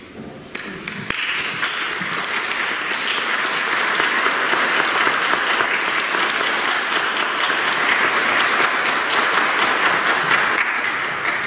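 Congregation applauding at a Catholic Mass on All Saints' Day, sustained dense clapping that swells after a brief quiet start and holds steady, loud and reverberant, with no voices on top.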